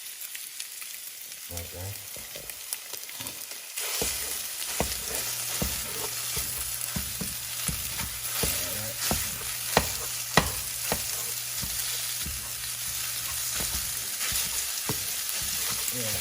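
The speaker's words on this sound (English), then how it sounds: "we're gonna break that up, try to get all the sausage out of here" Maple breakfast sausage fries in a pan while being broken up, a steady close sizzle punctuated by scraping and tapping of a utensil, with a brief spoken word.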